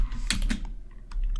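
Typing a SQL select statement on a computer keyboard: a quick burst of several crisp, close key clicks, a short pause, then a few more taps over a low background hum.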